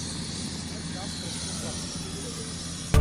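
Steady broadband whir of a helicopter in flight carrying a blood bag, constant and fairly loud throughout, ending in a sudden louder burst at the very end.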